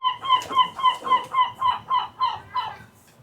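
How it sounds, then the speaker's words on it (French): Seagulls screech in a steady run of about ten loud, evenly spaced nasal calls that fade and loosen toward the end, close by and with no voices. "on entend les goélands gueuler là"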